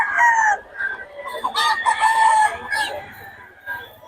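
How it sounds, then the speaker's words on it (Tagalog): Black hen clucking and calling up close, a series of drawn-out and choppy vocal bursts with other poultry sounds and faint background noise. "Black hen, eh."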